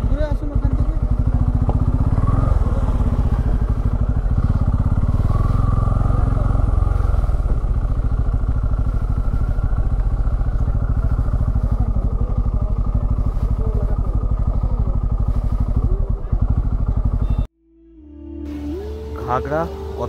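A motorcycle engine runs steadily and close at a parking spot during a ride from Kolkata to Jhargram, then cuts off abruptly near the end, leaving quieter, different sounds.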